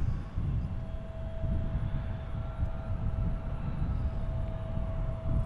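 An Endeavor CRJ900 jet taking off from runway 36 right at Cincinnati airport, a steady, loud low engine roar with a faint whine above it, continuous throughout with no voices.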